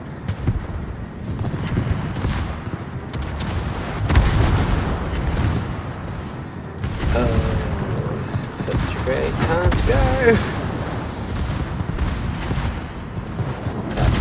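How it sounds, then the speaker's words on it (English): Heavy warship guns fire in a naval combat video game, booming salvos rumbling in loud overlapping bursts over a continuous low roar, with a player talking throughout. "I get the joys of getting to hear the gun sound twice"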